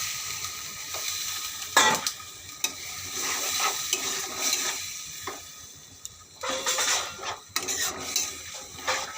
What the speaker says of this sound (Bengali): এবার আমি জল দিয়ে দেবো। মশলাটা কষানো হয়ে গেছে।